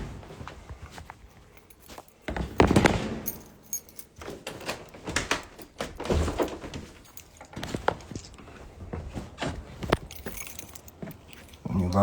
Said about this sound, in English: Let me lock this motherfucking door.